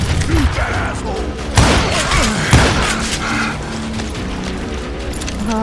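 Gunfire in the Western shooter Call of Juarez Gunslinger, with a couple of louder booming shots standing out among clattering mechanical noise and a dense, busy game soundscape.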